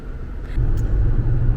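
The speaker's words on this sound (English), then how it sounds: "Now we're just driving." Car driving on a road, a close, steady low rumble that swells slightly louder partway through.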